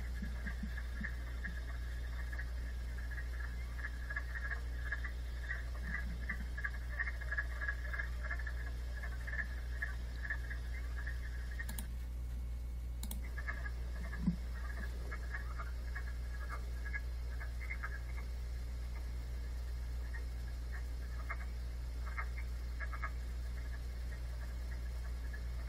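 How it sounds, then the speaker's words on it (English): A chorus of many wood frogs calling together, a steady layered clucking like a crowd of ducks, continuous through the clip over a low constant hum, with a brief break partway. "there's a bunch of wood frogs all calling"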